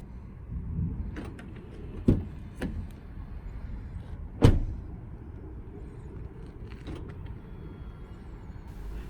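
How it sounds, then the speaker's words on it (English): Lexus RX300 from 2019 unlocking several times, with a few brief mechanical clicks and thunks of the door locks heard close by over a low background hum. "Then we leave the car and unlock the car several times."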